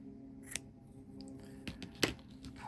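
Scissors snip through a short tail of yarn at the end of a knooked square, a couple of crisp close cuts over quiet room tone.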